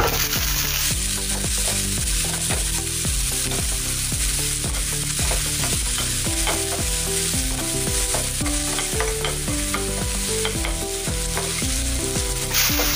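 Tomatoes frying with softened onions in a pan for dum aloo, a constant loud sizzle with regular stirring scrapes throughout, close up, accompanied by a steady rhythmic background music track and no talk.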